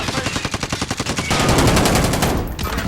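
Gunfire in Call of Duty Warzone, a rapid automatic burst of evenly spaced shots followed by a denser, louder stretch of overlapping fire, close and continuous for about three seconds.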